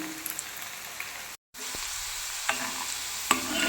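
Cauliflower pieces fry with chilli and garlic in hot oil, making a continuous crackling sizzle with scattered pops and stirring scrapes. A brief moment of silence interrupts it, and no one speaks.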